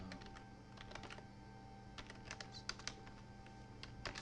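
Quiet computer keyboard typing, irregular soft key clicks in short bursts over a faint steady hum, close but low in level, no talking.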